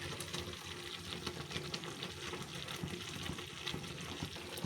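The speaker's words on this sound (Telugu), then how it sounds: "ఇలా ఉడుకుతూ ఉంది కదండి" Water with a little oil bubbling in a pot before ragi flour is added for ragi sangati, a soft, steady simmering bubble and fizz heard close but quiet throughout.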